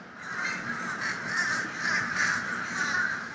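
Crows caw repeatedly and loudly in a steady, overlapping chorus near an inshore Florida fishing spot, the harsh calls continuing without pause and with no talk over them.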